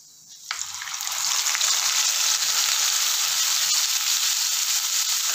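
Ground masala paste tipped into hot oil with popped mustard seeds for parupu urundai kuzhambu, starting as a faint rustle and then rising into a loud, close, continuous hissing sizzle.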